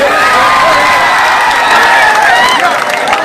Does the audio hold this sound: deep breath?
no